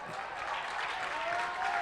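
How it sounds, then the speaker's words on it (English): A crowd at a Baulkham Hills versus Blacktown grand final baseball game cheers and claps after a run is scored, dense sustained applause with voices mixed in. "Baulkham played a run and the crowd goes wild."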